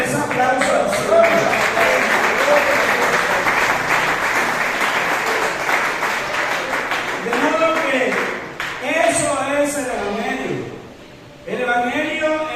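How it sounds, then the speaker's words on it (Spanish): A church congregation bursts into sustained applause during a Spanish-language worship service, dense clapping filling the room, with a voice and music tones rising through it before the clapping thins and fades near the end. "Denle ese aplauso al Señor"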